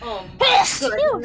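One sharp, loud sneeze bursts out close by in the middle, with a person's speaking voice heard around it.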